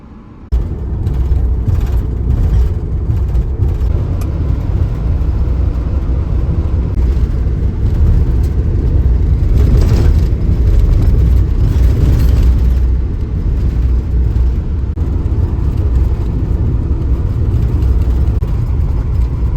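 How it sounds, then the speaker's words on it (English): Rental van driving slowly along a rough dirt road toward Big Creek Lakes in Colorado, a loud, steady low engine drone and cabin rumble with occasional bumps and rattles, no voices. "We're in the Titus Adventures rental van again."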